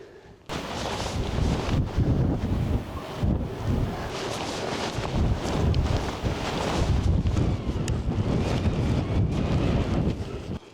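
Strong gusty wind buffeting an outdoor microphone, a loud continuous roaring rumble that surges and dips with each gust for several seconds, with no voices over it.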